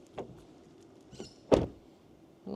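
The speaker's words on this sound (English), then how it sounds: "Let's do the old door close test." A Toyota bZ4X car door swings shut with a single firm thud, followed by a fainter latch clunk a moment later, heard close up with no talking.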